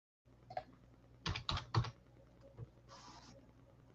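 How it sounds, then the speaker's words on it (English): Keys tapped on a computer keyboard while entering the GameStop ticker GME, a sparse run of quiet clicks with a brief cluster of quick strokes in the middle and a faint background hum. "So let me just type in GameStop, GME."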